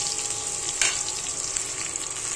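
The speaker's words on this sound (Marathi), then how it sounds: "मिरची तेलामध्ये चांगली फ्राय होऊन द्यायची." Chillies fry in hot oil for a Hyderabadi-style okra (bhendi) dish, a brief, close and steady sizzle with a faint crackle.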